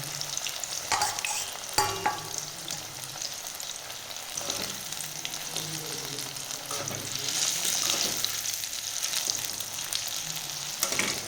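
Cauliflower pakoras deep-fry in mustard oil with a continuous bubbling sizzle, broken by occasional stirring scrapes and clinks, loud and close with no voices.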